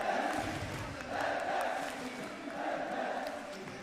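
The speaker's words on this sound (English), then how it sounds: "The crowd chanting Reckless." An esports arena crowd at a League of Legends LFL Division 1 match chants a player's name, Reckless, in a rhythmic, repeated chorus, a distant, roomy swell of many voices rising and falling in regular waves.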